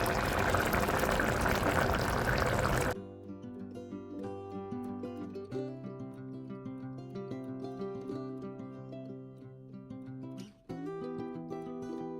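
A spoonful of mustard oil poured over a home-cooked Bengali vegetable dish: a short, dense splash and sizzle lasting about three seconds, followed by soft background music.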